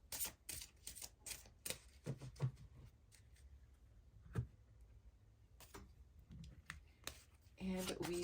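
An oracle card deck is shuffled by hand, giving quiet irregular riffling clicks and taps close to the microphone, with a soft bump partway through.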